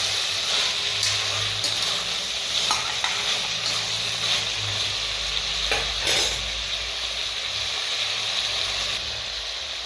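Chopped vegetables cook in hot oil with tamarind for Tirunelveli koottanchoru, a steady close sizzle and hiss with occasional soft stirring scrapes, and no voices.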